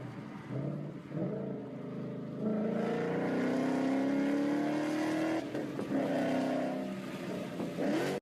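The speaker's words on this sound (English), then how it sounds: "Here's a clip of me making a little pull in the car at the end of the night after we got the install done." A Ford Mustang accelerates hard on a night run, its engine note climbing steadily through gears with a brief shift break, heard from inside the car at moderate level.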